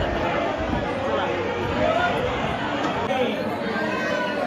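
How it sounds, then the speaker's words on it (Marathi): Dense crowd chatter fills the stairs and upper floor at Prem Mandir temple, many overlapping voices forming a loud, continuous babble close around the listener. "मित्रांनो बघा वरती जायला किती गर्दी झालेली आहे."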